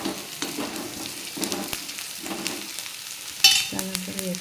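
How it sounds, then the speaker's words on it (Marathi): Ginger-garlic paste sautéed with reddened onions in a pan for a bitter gourd tikka masala, soft rhythmic stirring strokes over a quiet sizzle, with a sharper clatter toward the end. "ती थोडी परतून घ्यायची."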